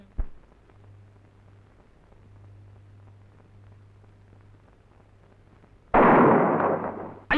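A sudden loud firecracker-like blast bursts out near the end, followed by a second sharp bang, after a quiet stretch with a low hum.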